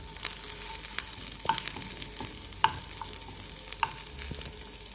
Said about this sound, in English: I have put about 1 tablespoon of oil to put in the onion